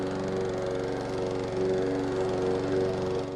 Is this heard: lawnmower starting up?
yes